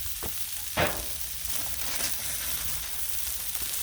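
Smash burger patties sizzle on a Blackstone griddle in a continuous bright hiss, with a brief louder scrape or press near the start and nobody talking.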